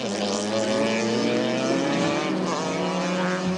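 Touring cars from the 1998 Bankfin series at Aldo Scribante roar down the main straight, a loud, steady multi-engine drone with layered harmonic whine sustained throughout.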